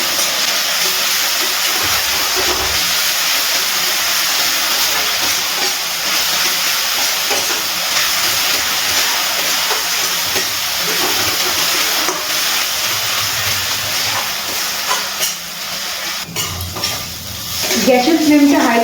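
Chicken keema masala sizzles and fries in a pan over a high gas flame while being stirred, a loud, continuous hiss with scraping spoon strokes, louder clattering near the end.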